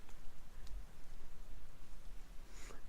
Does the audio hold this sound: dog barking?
no